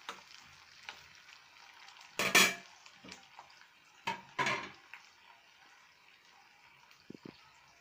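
Sliced onions and green chillies frying in a pan, a soft sizzle under sharp clinks and scrapes of a utensil stirring against the pan, close by.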